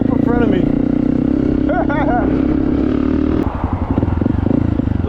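A Honda dirt bike with an FMF exhaust rides along with a steady, loud engine drone and throaty exhaust note, while birds chirp faintly and someone talks over it.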